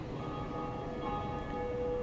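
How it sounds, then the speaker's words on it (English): A bell rings in Dark Souls, a sustained metallic tone drawn out over a steady low game ambience, moderately quiet and continuous throughout. "So this is the bell that you keep hearing in the background."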